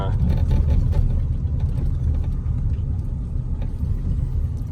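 A 400-dollar two-wheel-drive Toyota Tacoma pickup with about 220,000 miles pulls off for a short drive around the block, its engine and road rumble loud and close in a heavy, uneven low drone.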